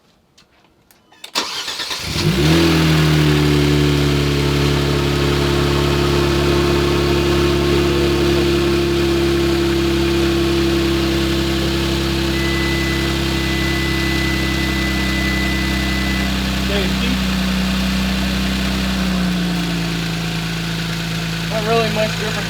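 A 2018 Kia Stinger GT with a K&N cold air intake cold-starts with a sharp crank and flare, then settles into a loud, steady idle that holds close and even for about twenty seconds.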